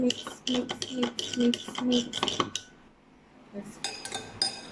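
A spoon stirring salt water in a glass for a floating egg experiment, with rhythmic clinking against the glass, a brief pause, then lighter chinks near the end.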